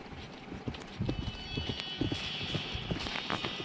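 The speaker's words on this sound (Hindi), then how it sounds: "ये घोड़ा भी मेरा नहीं है।" Horse hooves gallop in a video game, an uneven run of clip-clop thuds that grows louder after the first second, with a faint high tone behind.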